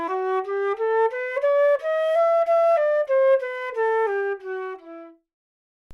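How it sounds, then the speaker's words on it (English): Solo flute playing a simple melody of separate notes climbing and then descending, clear and close, ending in silence. "A flute sounds like this."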